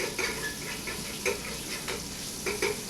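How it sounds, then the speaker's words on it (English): Salt pork rendering in a pan for minestra, a steady sizzling hiss broken by intermittent scraping stirs and crackling pops, close and fairly loud, no voices. "Now the salt pork is being rendered"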